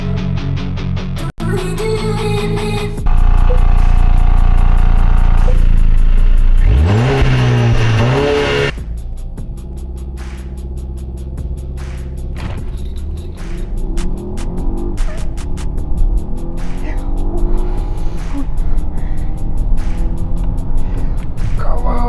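A 2017 Volvo XC90 T8 hybrid launches hard, building a loud rising engine roar with a brief tire chirp, then easing into a quieter, fluctuating cabin drone as speed settles.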